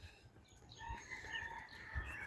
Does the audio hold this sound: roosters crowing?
yes